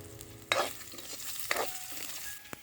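Onion and chilies sauté in a hot pan, a soft continuous sizzle broken by three sharp scraping stirs about a second apart, close and clear with no talking.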